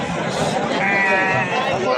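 Young male goat kids bleat at a busy village livestock market, one wavering bleat rising clearly above a dense murmur of crowd chatter.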